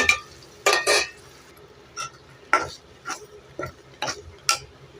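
A spoon stirs okra tamarind curry mixed with ground coconut, rock salt and chilli powder in a pot, giving a series of separate scraping clinks against the metal in an irregular rhythm, close by with no talk.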